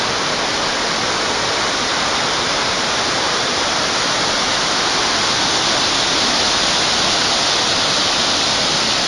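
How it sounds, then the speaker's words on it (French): Water pours over a dam on a river in the Jura near Blye, a steady, loud, unbroken roar of rushing water with no voices. "Ouais, c'est un barrage."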